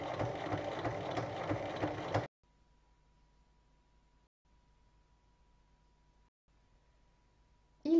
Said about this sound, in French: On va maintenant faire une surpiqûre de chaque côté des coutures.